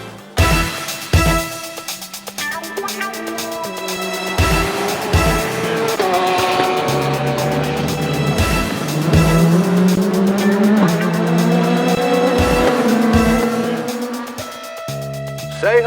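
Toyota Gazoo Racing GR010 Le Mans hypercar racing hard, engine notes rising and falling through gear changes with sharp tire squeals and skids, loud and close with no voices.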